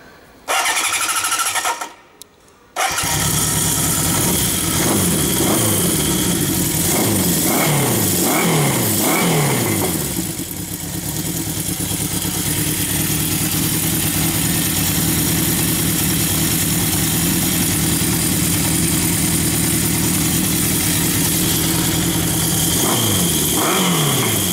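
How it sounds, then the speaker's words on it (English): A 1973 Honda CB750 motorcycle, recently fitted with ultrasonically cleaned carbs and new fuel lines, cranks with a brief gap before catching, then settles into a steady, loud, close idle with a few blips of the throttle, no talking. "Got a 1973 Honda CB750."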